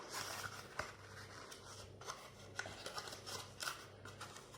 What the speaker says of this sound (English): just pop in your toilet roll tube at the end, and then just sort of fold it round and keep folding